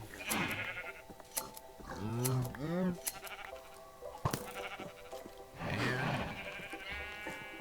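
Sheep bleating in Minecraft with the All The Mods 3 modpack, several loud wavering bleats in bursts near the start, middle and end, with brief speech and sharp game effects in between.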